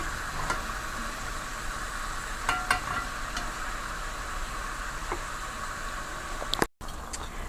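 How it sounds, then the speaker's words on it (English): Chicken pieces fry in oil in a stew pot, giving a soft continuous sizzle with a few light clinks and stirring knocks, close and fairly quiet. "Now the chicken is frying down nicely."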